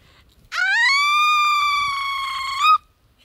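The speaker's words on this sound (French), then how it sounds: "Alors l'oiseau se mit à chanter." A bird sings a single sustained, bright whistled note with rich harmonics, slightly rising and holding steady for about two seconds before stopping abruptly, loud and close against a quiet background.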